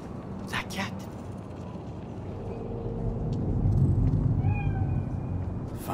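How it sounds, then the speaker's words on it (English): A cat meows in Cyberpunk 2077, out on a city street in Night City: a few short, fairly faint mews near the end over steady street ambience, with speech-like sounds earlier in the clip. "Do you see it? That cat?"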